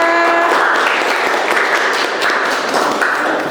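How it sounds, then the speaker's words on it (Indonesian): Classroom students applauding a classmate: loud, dense, continuous clapping from many hands close by, with a brief tonal ping at the very start. "silakan boleh tepuk tangan dulu dong untuk temennya"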